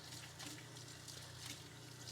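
Faint, steady water running into a kitchen sink while a sponge is rinsed, a soft continuous hiss and trickle with no talk.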